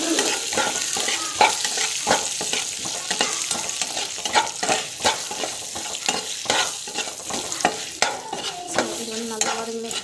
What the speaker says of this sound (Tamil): ஸோ நல்லா வதக்கிக்கலாம்.